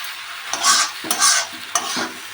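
Water spinach with jackfruit seeds is frying and being stirred in a pan, three or four close scraping stir strokes rising over a soft sizzle, with no one talking.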